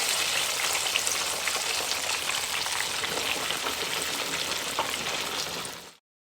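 Country fried steaks bubble and sizzle in hot oil in a deep fryer, a steady dense crackling hiss that holds evenly, with no talking, and then cuts off abruptly.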